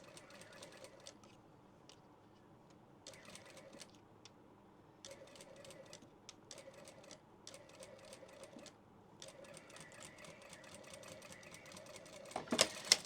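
A sewing machine stitches a tissue pouch in quiet bursts of rapid mechanical whirring, with short pauses between runs and a louder clatter near the end.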